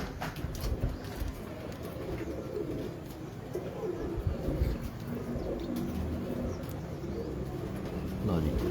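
Prized fancy pigeons coo softly in a continuous overlapping murmur, with scattered chirps, while people talk nearby.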